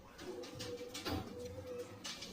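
Saharanpuri pigeons coo softly nearby in low, throaty calls, with light rustling and fluttering around them.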